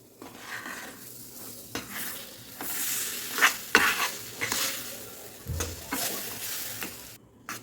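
Semolina and mango juice stirred and roasted over low heat for mango puran poli, with scraping spoon strokes and a soft sizzle throughout, the stirring rising in bursts before a short pause near the end.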